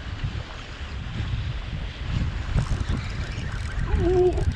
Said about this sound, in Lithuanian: Biški vėjas kyla.